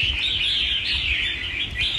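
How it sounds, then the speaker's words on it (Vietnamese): A caged songbird sings a continuous, bright, high warbling trill, close and clear, with no talking over it. "giọng của con chim thì anh em yên tâm, giọng rất là hay"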